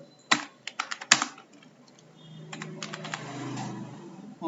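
Typing on a computer keyboard: a quick burst of sharp, close key clicks, then quieter scattered taps under a low background hum.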